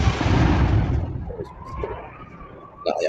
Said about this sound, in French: On a une simulation d'une scène avec une explosion.